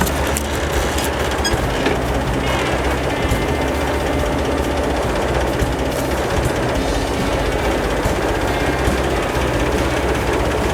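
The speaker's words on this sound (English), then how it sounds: "And then I'll just simply lift it up with the hydraulics of the tractor." Tractor engine running as its hydraulics lift a FIMCO sprayer holding 30 gallons of water, a loud, continuous rattling mechanical drone with dense clatter throughout, no speech.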